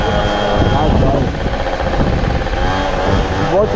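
A scooter engine runs close by with a steady mid-pitched drone that rises and falls slightly as people talk over it.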